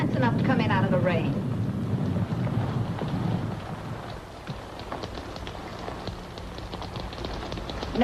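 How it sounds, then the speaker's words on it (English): Steady rain patters in the background of a 1945 film scene while a voice speaks at the start, then the downpour continues alone with a low rumble beneath it. "Why, Mr. Simmons, haven't you sense enough to come in out of the rain?"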